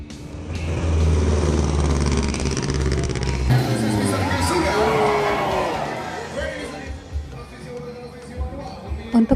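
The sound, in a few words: Mustang Classic car drifting, crowd cheering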